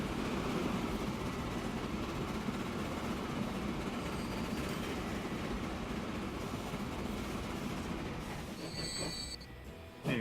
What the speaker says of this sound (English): Ooh, we got 2 trains coming together.